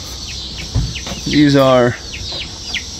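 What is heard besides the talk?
chickens and chicks clucking and chirping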